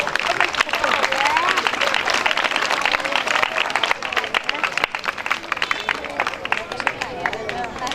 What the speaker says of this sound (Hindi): आपकी भरपूर तालियां।